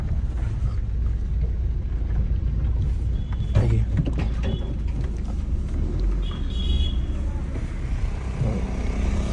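A car turns around on a road, heard from inside as a steady low rumble of engine and tyres with some rattles and mechanical knocks, close and continuous, while people talk faintly at times.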